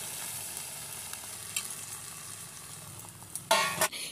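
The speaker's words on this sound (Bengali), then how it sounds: "এবার এই যে পাশে জলটা গরম করে রেখেছি মাংসের মধ্যে ঢেলে দেব" Hot water poured into chicken curry frying in a pan, a steady low sizzle that flares into a short loud hiss near the end, no talking.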